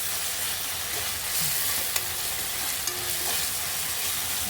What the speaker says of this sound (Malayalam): നമ്മുടെ ബിരിയാണിക്കുള്ള ഉള്ളി വഴറ്റിക്കൊണ്ടിരിക്കുകയാണ്